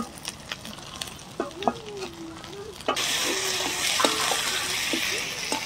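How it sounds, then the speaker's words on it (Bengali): Cumin paste and chili paste go into a pan with fried onion and ginger-garlic, bursting into a loud, steady sizzle partway through after quieter clinks, while someone talks over it. "এবার আমি দিয়ে দিচ্ছি জিরে বাটা আর লঙ্কা বাটা"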